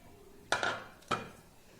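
Spoon clinking against a bowl while mixing chilli powder, garam masala, ajwain and salt for kadhi pakora, two or three quick close metallic taps in a quiet kitchen.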